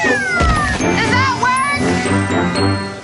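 A cat gives several loud, close meows over a few seconds, with a jingling tinkle and a voice speaking in the background among them.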